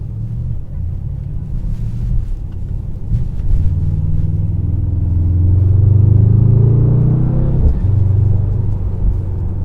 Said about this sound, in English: Very confident sound of the V8.